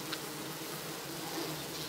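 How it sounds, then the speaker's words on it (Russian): Bees feeding on honey, recorded up close, give a faint, continuous buzzing drone with no voices. "Я наблюдаю за пчелами, как пчелы едят мед."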